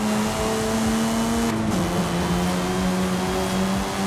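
In a racing video game, a car engine holds a steady high-pitched drone at full throttle, with one brief dip as it shifts before climbing again, loud and continuous with no voices.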